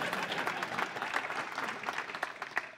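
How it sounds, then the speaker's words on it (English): An audience at a programming conference talk applauds, a dense, steady patter of many hands clapping at moderate loudness, thinning slightly at the end. "Just keep clapping."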